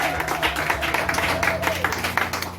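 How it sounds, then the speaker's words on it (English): A church congregation claps in praise during a Sunday service, a dense run of rhythmic hand claps with crowd murmur, fairly steady throughout. "Can we clap for the Lord?"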